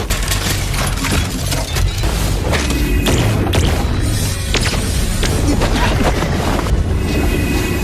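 A cannon-shaped handheld weapon fires repeatedly at moving targets, a dense run of loud thuds and booms over a constant roaring, noisy background.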